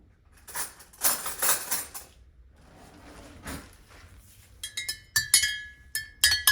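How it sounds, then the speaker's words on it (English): A spoon stirs wine in a glass, giving irregular clinks and scrapes, sparse at first and then a quicker run of bright ringing taps toward the end, with no voices. "is just stir it. I'm just trying to get some oxygen in there."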